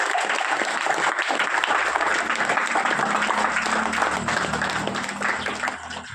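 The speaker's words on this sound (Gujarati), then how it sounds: "ખૂબ ખૂબ આપણે એને તાળીઓથી આપણે આવકારીએ" A school audience at a primary school prize event claps steadily to welcome girls who won first, second and third place in class 7, a loud, continuous wash of clapping that tapers slightly at the end.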